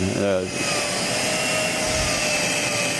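A small motorized wood lathe whirs continuously with a constant pitch, joined by rough, grinding texture throughout.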